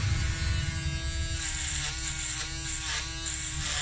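Electric hair clipper running near and steady as it is used on a beard, its constant buzzing drone brightening in bursts as the blade meets hair, with no voices.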